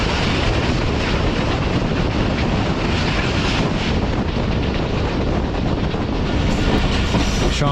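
The Jaffar Express passenger train rumbles steadily along the rails onto a loop line in Balochistan, heavy and close, with wind buffeting the microphone and a rhythmic clatter beneath.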